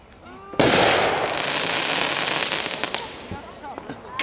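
Fourth of July fireworks and firecrackers go off in a sudden loud burst, then a dense, sustained crackle of many rapid pops that thins into scattered, separate bangs near the end.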